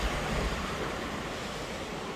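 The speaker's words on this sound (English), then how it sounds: "The sea's quite rough, it bounces up quite a lot there" Rough sea waves break and wash steadily on the shore, a loud, continuous roar of surf with wind noise and no voices.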